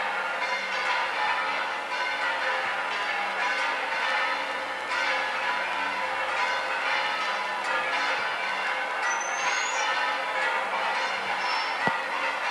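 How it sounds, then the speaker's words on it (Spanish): Cathedral bells pealing for a Corpus Christi celebration, a sustained ringing wash of overlapping tones heard from a distance, steady throughout with no talk. "Siguen tañendo a pleno pulmón, si me permiten la expresión, las campanas de la catedral"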